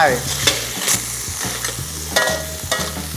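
Crab being stir-fried in hot oil for curry-powder crab, a loud crackling sizzle with rhythmic scraping strokes of the spatula against the pan, close up.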